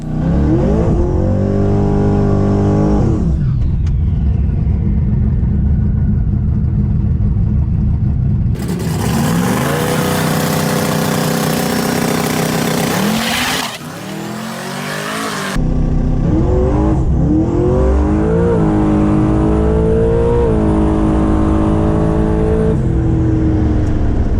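A turbocharged drag race car engine roars loudly at US 41 dragstrip, revving up and shifting through gears as it launches and accelerates, with a stretch of dense wind-like noise midway.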